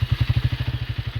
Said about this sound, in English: let's start the motorcycle, and I need to press this switch continuously